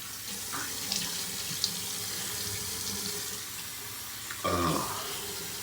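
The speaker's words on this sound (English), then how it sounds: "And now what I have to do is wash my face." A bathroom sink tap runs steadily for washing the face, a close, continuous hiss of flowing water with light splashes and a brief louder gush near the end.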